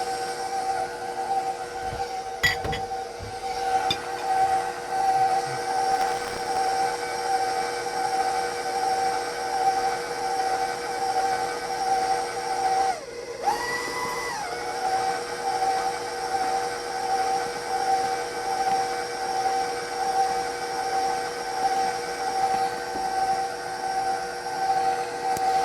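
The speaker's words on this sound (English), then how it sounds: "So the mixer works really good" An electric mixer mixes tamale dough of butter and corn flour with a steady, droning whine and hum that holds evenly, dipping briefly once near the middle before resuming unchanged.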